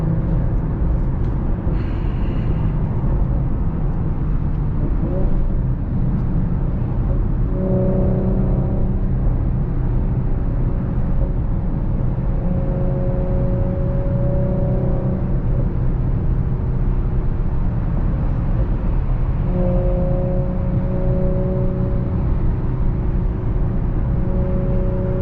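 An Audi SQ5 fitted with AWE downpipes and a Touring catback exhaust drives through traffic, its engine a steady, loud low drone from inside the cabin with gentle swells in pitch as it eases on and off the throttle.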